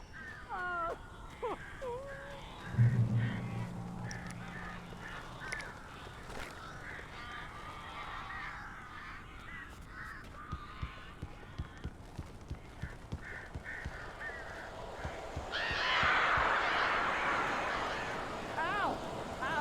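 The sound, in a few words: crows cawing in Alan Wake video game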